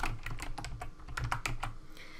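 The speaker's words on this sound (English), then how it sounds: "Notice that I can start typing my question up top" Fast, steady keystrokes on a computer keyboard while entering a question into a Kahoot quiz, a close run of crisp clicks with no voices.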